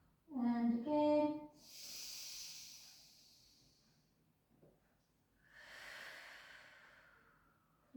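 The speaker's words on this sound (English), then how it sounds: "Inhale, let the belly rise. Out breath, release." A person breathes in and out slowly during a rehab pilates core exercise: a brief voiced tone, then two long, soft airy exhales separated by a quiet pause, close to the mic.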